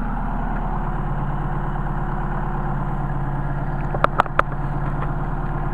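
A Mercedes 190SL engine with Solex carburetors, throttle disconnected, idles steadily at around 800 rpm, a continuous even rumble with a few sharp clicks near the end.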